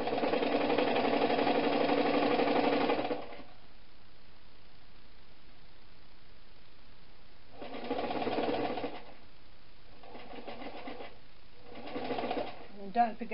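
A sewing machine stitches fabric for a pouf, running in a steady close whir for about three seconds, then starting again in shorter bursts after a pause.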